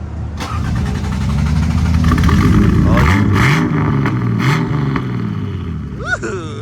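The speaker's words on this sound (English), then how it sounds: "Will she start?" A turbocharged Datsun 280Z engine cranks, catches and revs loudly up close, its rumbling idle rising and falling through several throttle blips, with brief voices over the engine.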